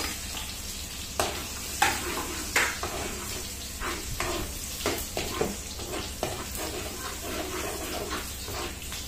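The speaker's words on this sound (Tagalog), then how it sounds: "Lagyan natin ng bawang, sibuyas," Garlic and onion sauté in a pan for lumpiang shanghai, giving a steady sizzling bed broken by intermittent scraping and stirring clicks, close and moderately loud.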